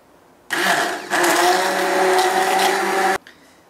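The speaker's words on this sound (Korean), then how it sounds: "믹서기로 쉐이킷 쉐이킷" A kitchen blender whirs loudly as it blends mango and milk into a shake, starting abruptly, surging to a higher steady pitch after a moment, then cutting off sharply.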